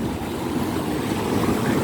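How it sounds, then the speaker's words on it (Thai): Sea waves wash continuously onto Mae Ramphueng beach in Rayong, a steady broadband surf wash with wind rumble, close and fairly loud with no talking. "น้ำใส ๆที่ทะเลตีเข้ามาพัดเข้ามา"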